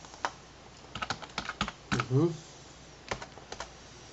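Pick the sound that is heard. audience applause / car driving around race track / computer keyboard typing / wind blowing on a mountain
computer keyboard typing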